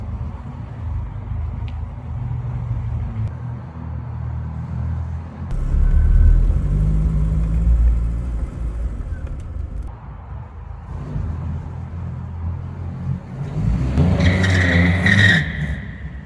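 A 4.5 litre V8 car engine, rated at 725 horsepower, rumbles deep and low, swells into louder revs mid-way, then builds again into a harsher roar near the end.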